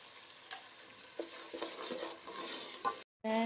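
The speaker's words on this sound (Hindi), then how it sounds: "मैं मसाले को अच्छे तरीके से भून लूँगी ताकि अदरक लहसुन की कोई भी स्मेल ना आए" Ginger garlic paste masala with tomatoes sizzles quietly in a pan while a spoon stirs and scrapes through it, with soft clinks and a brief drop to silence near the end.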